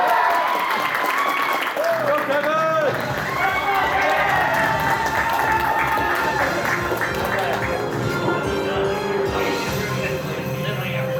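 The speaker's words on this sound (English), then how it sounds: "give a round of applause" An anime convention audience applauds and cheers during a game show, a crowd of clapping and whoops with shouts rising over it, and a presenter talking and calling out to the audience throughout.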